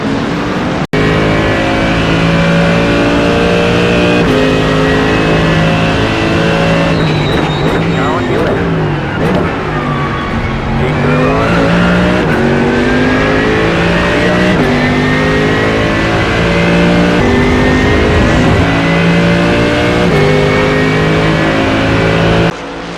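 Race car engines in the iRacing sim roar loud and continuous, with rising and falling revs through gear shifts and other cars passing close, while a person talks over the din.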